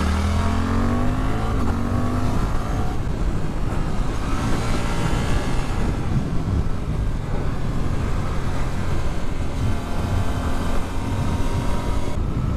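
A Suzuki GSX-8S supersport motorbike engine pulls hard and steadily under acceleration, a loud continuous rising drone with heavy wind rush and no pauses throughout.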